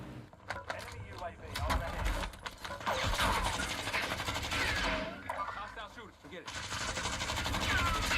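Gunfire and engine noise in Call of Duty Warzone on Rebirth Island, dense bursts of shots and rumbling under a player's voice talking over the action throughout.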